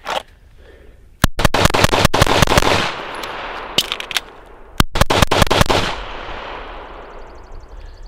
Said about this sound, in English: Now, I don't know how many rounds I've fired out of that magazine.